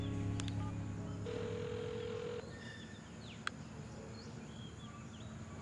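A mobile phone being dialed, with short electronic tones and beeps over a steady hum, a long held tone in the middle, then a quieter background with a single sharp click.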